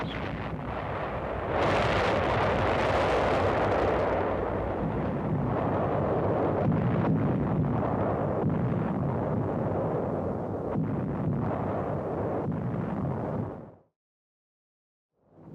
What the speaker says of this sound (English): Navy films show phases of the 3-day bombardment prior to amphibious invasion of the 8-square-mile island